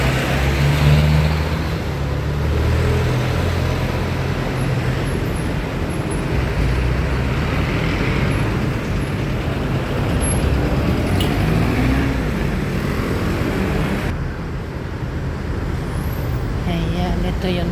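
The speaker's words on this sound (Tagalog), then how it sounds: "Ayan yung mga sasakyan na yan guys" Steady roadway traffic with cars and buses streaming past on a street, a continuous loud rumble of engines and tires close by, with a brief hiss of air brakes and no break in the flow.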